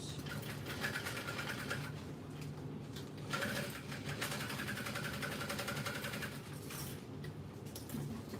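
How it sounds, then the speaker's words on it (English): Sewing machine back-stitching over strap connectors on a backpack, a continuous fast mechanical whir with short bursts and pauses as the stitching direction changes, fairly quiet throughout. "Giving a little back stitch over these strap connectors."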